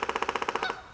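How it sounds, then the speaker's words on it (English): A woodpecker drums on wood along a Canadian trail, a rapid, evenly spaced burst of about ten sharp knocks, close and clear, ending abruptly. "A woodpecker in Canada."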